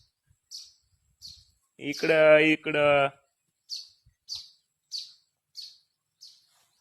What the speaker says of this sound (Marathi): तर छोट्या छोट्या चिमुकल्या चिव चिव करीत होत्या